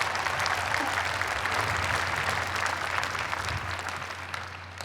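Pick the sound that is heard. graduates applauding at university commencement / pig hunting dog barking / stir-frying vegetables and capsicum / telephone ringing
graduates applauding at university commencement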